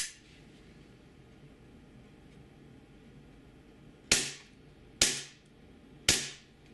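Three sharp shots ring out from a WE Little Bird Toucan gas blowback airsoft pistol, each a loud crack with a short decaying tail, spaced about a second apart after a stretch of quiet room noise.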